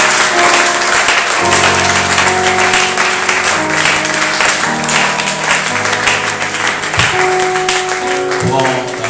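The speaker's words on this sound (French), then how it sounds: "Est-ce que tu peux acclamer pour le Seigneur?" Church congregation applauding for the Lord, a loud continuous wash of clapping mixed with sustained keyboard chords and voices, dense and steady from start to finish.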